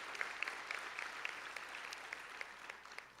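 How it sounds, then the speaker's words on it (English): Audience applause at a high school graduation ceremony for graduates' families, steady dense clapping from a large crowd heard at a distance, fading slightly toward the end with no talk. "give your support system a round of applause"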